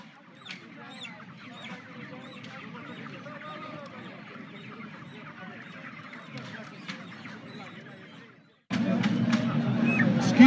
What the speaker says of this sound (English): Excuse me, you're hurting that chicken.